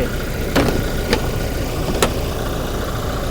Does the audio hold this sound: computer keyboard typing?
no